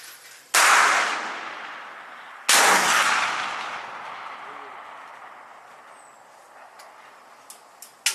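Two loud, close blasts from a .50 caliber black powder muzzle loader, each a sharp crack followed by a long fading rumble, a couple of seconds apart, then quiet with faint clicks.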